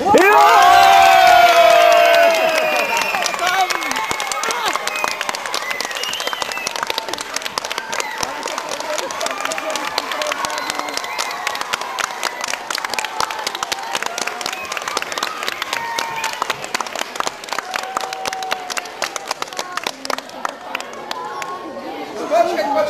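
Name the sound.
crowd applauding and cheering for the winner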